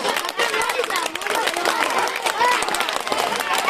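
Audience of schoolchildren at an English language club event in a government high school clap and chatter while students are called up, a loose, uneven patter of hands under crowd voices and shuffling.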